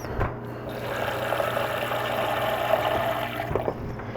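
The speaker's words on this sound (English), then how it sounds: "I'm just going to fill this up with tap water" Tap water runs steadily into a container being filled to mix a baking soda solution, a continuous close rushing hiss with no voices.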